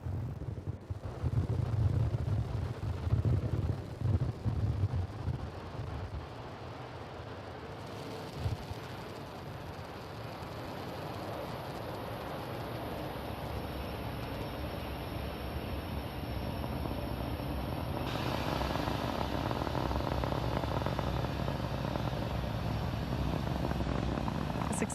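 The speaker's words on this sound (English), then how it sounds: "Successful liftoff for Falcon 9 from pad" A SpaceX Falcon 9 rocket lifting off from pad 39A at Kennedy Space Center gives a loud, sustained broadband roar and low rumble that swells and holds steady throughout, with wind buffeting on the microphone.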